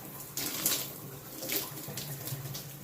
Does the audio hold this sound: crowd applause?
no